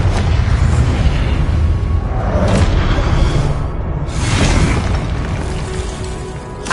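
Confringo and Incendio spell blasts in Hogwarts Legacy on PS5, loud repeated booming explosions with fiery whooshes, one blast rolling into the next without pause.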